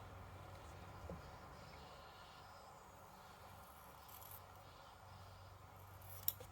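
Scissors trim fabric for a sewn purse, with a few faint, quiet snips over a soft, steady background.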